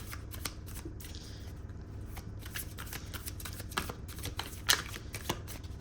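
Tarot cards shuffled by hand in a quick, continuous riffle of crisp flicks and slides, close and fairly soft, with no talking.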